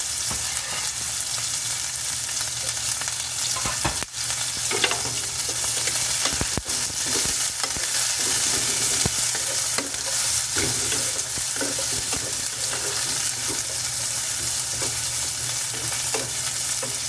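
Sliced onion and chili pepper being stir fried in a pan for masala cabbage with potatoes, a constant loud sizzle with occasional sharp spatula knocks and scrapes, close up and without talking.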